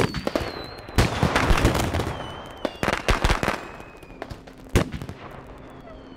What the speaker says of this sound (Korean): 마치 전쟁터와 비슷한 소리를 내는 폭죽을 사용해 전쟁이 선포됐다는 것을 알리는 수단일 수도 있겠습니다